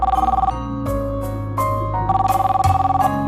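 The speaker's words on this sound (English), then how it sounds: "Hear the phone ringing?" A telephone bell rings loudly and close in repeated bursts with short gaps between them, heard alone with no voices.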